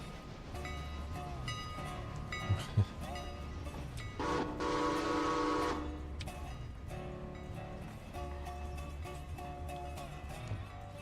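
A modded train rolls along in the Railroader video game, with a continuous low rumble and rhythmic clatter, a loud horn or whistle blast sounding midway, and brief soft speech in the background.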